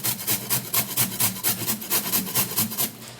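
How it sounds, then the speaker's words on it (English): Small beetroot scraped over a grater, a quick regular series of about a dozen close, loud rasping strokes in an even back-and-forth rhythm, no voices. "we're going to be grating the beetroot"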